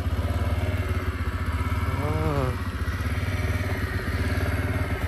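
A 2001 Honda Crea 50cc scooter with a water-cooled engine runs at a steady, close, loud idle, its rapid even putter continuing throughout with a short rising rev near the middle.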